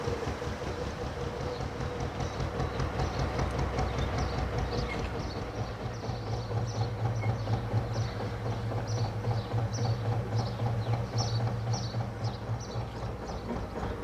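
A train crossing the operational railway bridge beside a canal, a sustained rumbling roar with clattering wheel beats and a droning low hum, heard over a narrowboat's engine chug.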